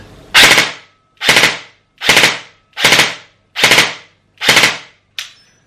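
A KWA Ronin T10 airsoft gun fires six sharp, evenly spaced three-shot bursts, loud and close, each a rapid rattling cluster separated by brief silences, with a short clipped burst at the end.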